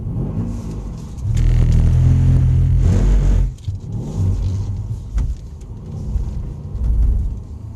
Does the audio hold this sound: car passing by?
yes